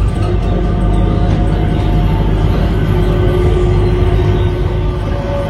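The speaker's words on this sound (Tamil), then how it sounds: "நம்ம ட்ரெயின் கிளம்பிருச்சு." A terminal train at Singapore Changi airport departs with a steady, loud rumble and hum. The sound holds constant throughout with no speech.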